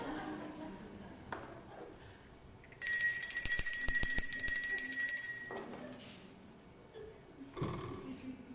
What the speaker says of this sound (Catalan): Per què creu que he tocat la campaneta?